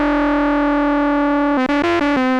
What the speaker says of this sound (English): you can hear kind of the weird distortion going on, but it really makes that a very rich sawtooth sound